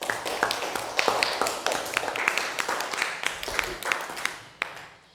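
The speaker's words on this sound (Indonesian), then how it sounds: "Tepuk tangan untuk kelompok 3." Classroom applause for a student group, a dense spread of hand claps from many children, fairly close and steady for several seconds, with voices mixed in.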